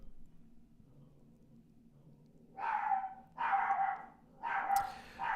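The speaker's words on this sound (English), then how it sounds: "I don't know if you guys can hear the chorus of dogs barking in the background." Several dogs bark together in the background, three loud bursts of overlapping barking about a second apart after a quiet lull with low room hum.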